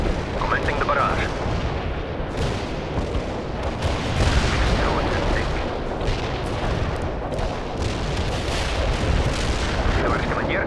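An artillery barrage in the World in Conflict video game rolls on as dense, continuous booming and rumbling impacts, layered with gunfire crackle and a few faint radio voices.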